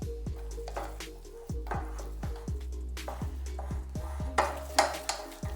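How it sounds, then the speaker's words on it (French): A spatula stirs flour into hot boiling butter and water in a pan for choux pastry, with repeated rhythmic scraping strokes against the pan, each ending in a short metallic clink, over a soft sizzle. "On va incorporer notre farine tout d'un coup, Apollin. Allez, tu peux mettre toute ta farine. Et moi, je vais mélanger avec ma spatule."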